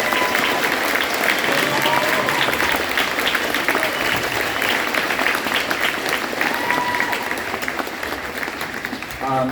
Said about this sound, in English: can we give one more round of applause for our music students?